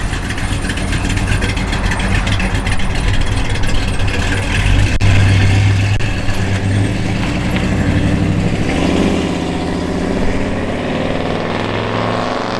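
A 1955 Ford F100 truck's engine idles close by with a steady, throaty rumble and a slight uneven lope, running continuously throughout.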